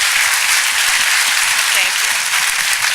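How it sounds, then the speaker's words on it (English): Loud, sustained audience applause fills a university hall in Iowa at a political event, a dense steady wash of many hands clapping with no gaps. "I'm sure the reason why you received so much applause when you talked about the work that you've done for 40 years"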